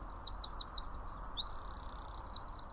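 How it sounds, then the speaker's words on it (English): A tiny bird sings a very high-pitched song: rapid repeated chirping notes, a short buzzy trill in the middle, then more chirps, loud and close over a quiet background. "It's a really, really high-pitched noise, which makes sense for such a tiny little bird."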